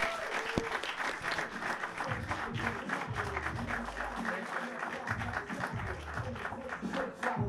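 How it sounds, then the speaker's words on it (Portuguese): Comedy club audience applauding as the next stand-up comedian is introduced, a sustained crowd clapping at moderate distance with voices and low rumble mixed underneath. "Uma salva de palmas para Gonçalo Novo!"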